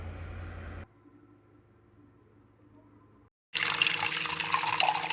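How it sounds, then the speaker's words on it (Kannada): Water runs into a pot for making rose tea, a steady close splash from a tap that starts loudly after a brief quiet pause, with an earlier burst of water at the start and no talking. "ಹಿಂಗೆ ನೀರು ಜಾಸ್ತಿ ಹಾಕ್ಕೊಂಡೇನ್ರಿ ನಾನು"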